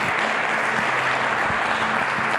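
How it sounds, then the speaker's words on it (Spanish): A church congregation claps loudly and continuously in a dense, even wash of applause, with a faint low tone running underneath. "Cuando le den un aplauso al Eterno"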